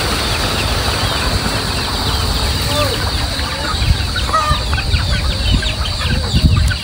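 A flock of pet chickens clucking and squawking busily around a person at feeding time outdoors, with scattered bird calls over a steady rural background, louder bursts of clucking near the end.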